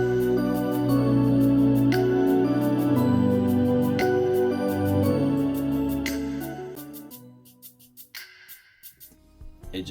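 An Ableton loop of layered music is triggered and then pulled down gradually on a fader, playing steadily with repeating accents before thinning out and fading toward the end.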